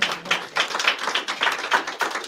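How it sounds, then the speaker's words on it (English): A small audience at a press conference on a plan for Tulsa Race Massacre victims claps for Mayor Nichols: a short, fairly close burst of hand claps swelling and fading in uneven pulses. "we can clap for that, Mayor Nichols"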